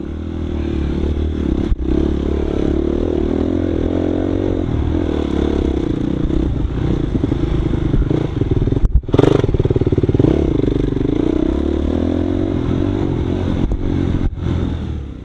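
A dirt bike rides single track through a forest at Washougal, its engine droning loud and steady close by, with rattling clatter from the bike over rough ground and an occasional thump.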